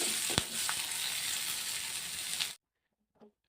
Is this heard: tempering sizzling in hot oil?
yes